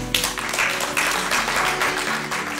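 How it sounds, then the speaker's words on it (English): Audience applause fills a stage award ceremony, a steady dense wash of clapping held at an even level for a few seconds with no talk over it. "I want you to clap for yourself"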